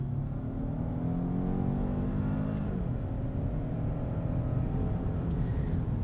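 A 2026 Genesis G90 e-supercharged sedan accelerates hard from inside the cabin, its engine pitch climbing steadily, dropping briefly at a gear change, then pulling on with a smooth, muffled roar.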